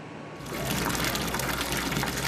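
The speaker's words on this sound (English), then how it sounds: "This is the tap water coming out of their faucet." Brown, discolored tap water gushes steadily from a home faucet, starting abruptly after a brief quiet moment and continuing as a loud, close, even rush.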